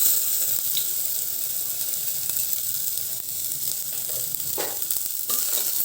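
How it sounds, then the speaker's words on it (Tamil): Garlic sizzles and fries in hot oil at the start of a sweetcorn soup, a dense continuous crackling hiss, close and steady, with a couple of brief stirring clinks and no talk. "இந்த எண்ணெயில் முதல்ல இந்த பூண்டு இதோடு சேர்த்துடலாம்."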